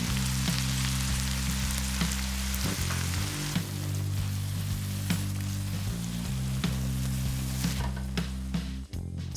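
Tomato frying in a pan for a pasta sauce, a loud, continuous crackling sizzle with scattered pops, sustained over a low hum until it thins out near the end.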